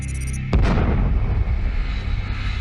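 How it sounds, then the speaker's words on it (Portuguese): A cosmic explosion is rendered as a sound effect: a sudden deep boom bursts in after a low hum and then rolls on as a long rumbling tail, loud and without speech. "os satélites captaram a maior explosão cósmica já registrada"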